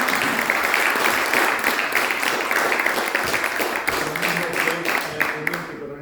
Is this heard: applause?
yes